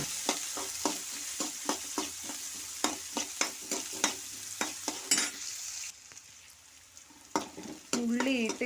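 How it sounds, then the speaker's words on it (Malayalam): Onions sautéed in a pan, a steady sizzle with a rapid, rhythmic run of spatula scrapes and knocks, close up; the stirring pauses briefly and resumes with a louder burst near the end, no talking. "ഉള്ളി ഞാൻ കൊട്ടിയിട്ടുണ്ട്, അത് നല്ല മൂത്ത് വരുന്ന പോലെ നമുക്ക് വഴറ്റിയെടുക്കണം"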